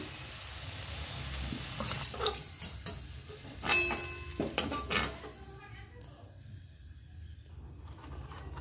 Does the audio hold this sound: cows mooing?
no